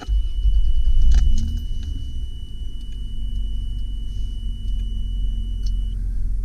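A 1997 Toyota Land Cruiser FJ80 starts with a short cranking surge that catches at once. It settles into a steady, low, rumbling idle, close and loud, with no voices.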